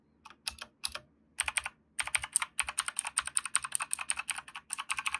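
Fast, crisp clicking from a Gamepower Saber RGB mechanical keyboard with blue switches, keys struck in quick irregular bursts close up, with no voices.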